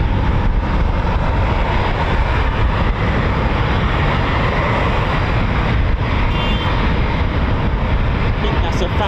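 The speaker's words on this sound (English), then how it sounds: "I think we've got another family version Typhoon coming out." A Eurofighter Typhoon FGR4 jet at RAF Coningsby gives a loud, continuous, broadband engine roar that holds steady throughout, heard from outdoors with spectators talking nearby.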